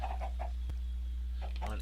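Chickens in a Minecraft game pen give a few short, clipped clucks in a quick series, then a brief pause and more clucks, heard close over a low steady hum.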